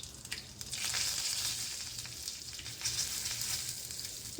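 Curry leaves crackle and sizzle in hot oil as a tempering for a green pea usal, a steady bright frying hiss that runs the whole time with small pops on top.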